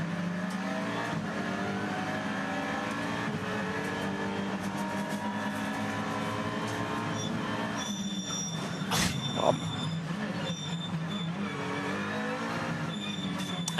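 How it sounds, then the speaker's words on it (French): Onboard a WTCR touring race car at the start of Race 1, Czech Republic 2021: a loud, buzzing engine climbs and drops through repeated gear changes, with a sharp clunk midway, close and continuous with no talk. "On revoit ici le départ à bord de la voiture de Yvan Muller."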